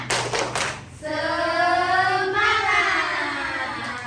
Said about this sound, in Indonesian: Masih ingat kan tepuk semangat tadi?